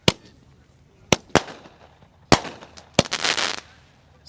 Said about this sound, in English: So this is what happens when you light two fireworks at the same time.